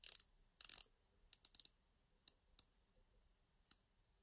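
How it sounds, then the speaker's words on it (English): The 60-click rotating bezel of a Tissot Seastar 1000 automatic dive watch is turned, giving a few quick bursts of tiny ratcheting clicks followed by several sparse single clicks, close and faint. "Let's check the bezel action out. It is a 60 click bezel."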